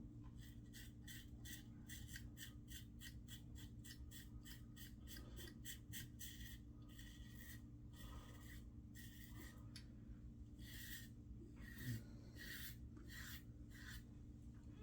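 Schick Krona safety razor scraping through three days of stubble, a close, steady run of rapid rasping strokes repeating across the whole stretch with a few brief pauses.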